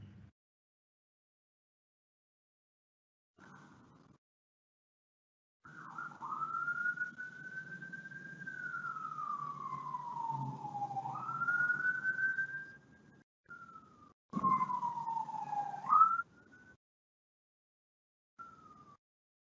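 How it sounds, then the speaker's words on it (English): A police car siren wails in the distance behind a quiet indoor room, its pitch sweeping slowly up and down for several seconds, then returning in shorter bursts. "Apologies if you can hear that police siren in the background."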